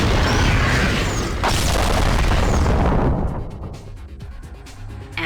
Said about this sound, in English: Incendiary devices placed in the factory prior to evacuation will detonate